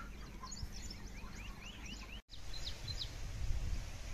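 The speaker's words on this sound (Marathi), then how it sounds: "त्यातल्याच या काही कोंबड्या मी तुम्हाला या ठिकाणी दाखवतोय." Chickens on a village poultry farm with long sheds cluck and chirp in a busy overlapping chorus, moderately near, with a brief dropout midway.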